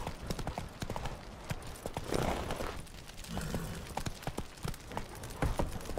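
Steady clip-clop of horse hooves on a hard surface in The Witcher 3, continuous and fairly close, with a scuffling game ambience behind it.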